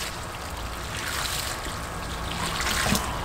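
Rainwater, about a gallon, poured over the top of a container-grown blueberry plant to flush overly acidic soil, producing a steady close watery trickle and splash with a broad wash of noise throughout, no talking.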